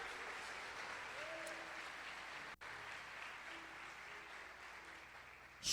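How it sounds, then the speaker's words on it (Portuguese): Faint applause from a church congregation during a service, a soft, even wash of clapping heard at a distance. "Dê um aplauso a Jesus."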